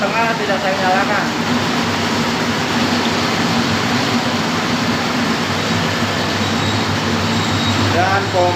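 A water pump runs in a homemade paint spray booth, giving a loud, continuous rushing drone without a break. Someone talks briefly over it at the start and again at the end.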